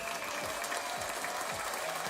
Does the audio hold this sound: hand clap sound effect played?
yes